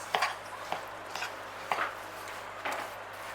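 A spoon knocks and scrapes around a bowl while apricot coconut slice mixture is stirred, a few distinct clinks spaced through a quiet, close scene with no speech.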